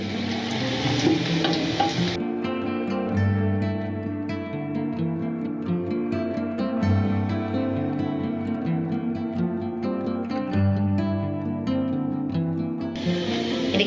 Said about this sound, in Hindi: हमने इसे अच्छी तरह प्याज को फ्राई करना है, लाल करना है।